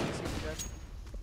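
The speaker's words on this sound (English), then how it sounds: "Throwing a flashbang." A flashbang grenade goes off in a fast-paced shooter game, a short loud burst with a sharp crack and ringing tail, over a brief stretch of gameplay noise.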